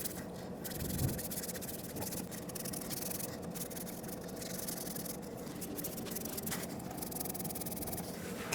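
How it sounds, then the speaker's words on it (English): Steady scraping of a sanding block worked back and forth over an exhaust manifold from a 2004-2009 Ford F-150 5.4L, a continuous close rasp with even strokes and no talking. "since I have a sanding block, I am going to use it and make sure that everything is nice and smooth"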